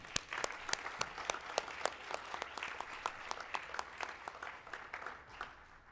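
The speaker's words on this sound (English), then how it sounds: "if we can give him a round of applause" Applause at an award ceremony as a recipient is called to the stage: a modest, fairly faint round of scattered individual claps with distinct sharp hits, steady across the clip.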